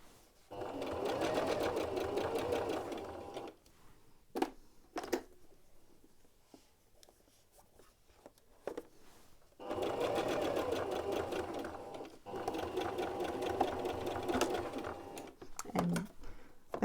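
A sewing machine stitches a seam on a T-shirt in two long steady whirring runs separated by a quiet pause with a few clicks, loud and close, with a short back-stitch burst at the end.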